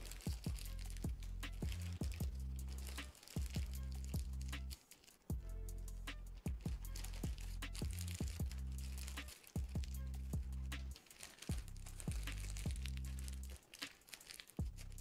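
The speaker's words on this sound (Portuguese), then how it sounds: "Com essas folhas, a gente vai amassar, formando-se uma bolinha." Paper sheets are crumpled into a ball, one folded inside the next, with steady close crinkling and crunching that pauses briefly now and then.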